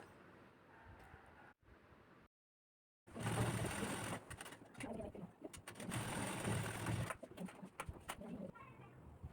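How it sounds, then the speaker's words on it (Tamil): A sewing machine stitches a blouse in bursts of rapid mechanical whirring, stopping and starting, with pigeons cooing nearby and a brief quiet gap. "அதே மாதிரி மூணு இன்ச்சு மார்க் பண்ணி ஸ்டிச் பண்ணிக்கோங்க"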